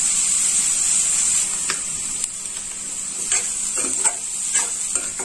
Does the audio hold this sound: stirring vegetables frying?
yes